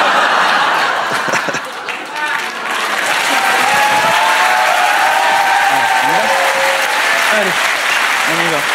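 Audience applause at a live stand-up comedy show, a dense sustained wash of clapping filling the room from start to finish, with a few faint voices and scattered chuckles mixed in.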